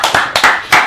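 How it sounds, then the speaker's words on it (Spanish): A few brief bursts of hand clapping welcome a guest on a theatre interview program, sounding as short, close claps rather than a full crowd. "Un gran aplauso para él."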